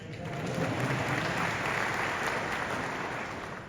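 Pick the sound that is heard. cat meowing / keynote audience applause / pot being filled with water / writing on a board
keynote audience applause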